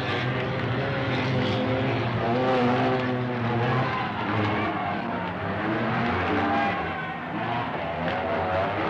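Speedway motorcycles, machines without gearboxes or brakes, roar around a short track at up to 75 mph, their engines droning loud and continuous with rising and falling pitch as the pack circles.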